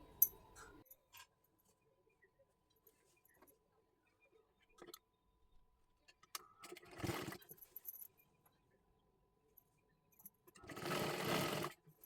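A sewing machine stitches close to the edge of a waist seam on a dress being made from a Kathpadar saree, in two short bursts of rapid whirring separated by quiet moments with faint handling clicks.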